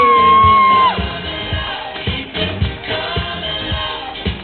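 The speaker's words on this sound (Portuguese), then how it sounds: "Daniel Cantino, uma salva de palmas por gentileza" A rodeo crowd in Massaranduba, Brazil, cheers, whoops and shouts. Bursts of loud crowd noise rise and fall across the arena, following a brief sustained tone at the start.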